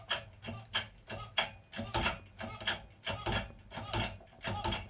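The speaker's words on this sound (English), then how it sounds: "This is a 20-ton hydraulic press." A 20-ton hydraulic press being pumped while shaping a state quarter dollar coin into a ring, giving a regular series of about a dozen sharp ratcheting clicks at moderate volume, with no talking.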